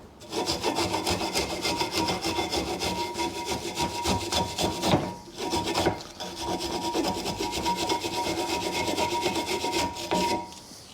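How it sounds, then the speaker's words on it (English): Rear brake parts on a 2009 BMW 1 Series Coupe 2.0 diesel are scraped with a screwdriver, a close, harsh rasping in rapid repeated strokes with two short pauses. "You might need to give it a bit of a scrape with a screwdriver if there's some stubborn bits in there"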